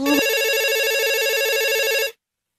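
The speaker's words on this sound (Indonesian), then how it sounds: "Telepon dari Papa, Ma. Coba diangkat teleponnya Arif" A telephone rings once in a single sustained electronic trill lasting about two seconds, loud and close, then cuts off into silence.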